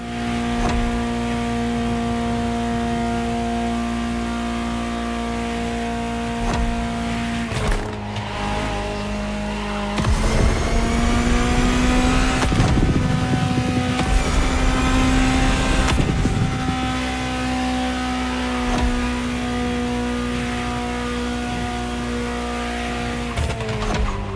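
A Ferrari 250 GTO engine in the racing game The Crew Motorfest drones at a steady pitch, then surges into hard revs with rising and falling tones and rough bursts before settling back to a loud, steady cruise, with no one talking.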